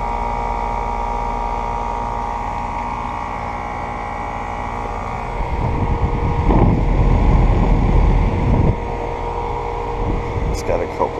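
A 2010 Carrier Performance Series 3-ton central air conditioner running outdoors, a steady hum and fan whoosh with wind buffeting the microphone for a few seconds midway, under someone speaking.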